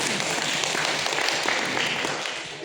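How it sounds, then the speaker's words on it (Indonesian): Dense, continuous applause from a large congregation at a sermon gathering, a broad steady wash of clapping filling the room. "Tepuk tangan buat kalian."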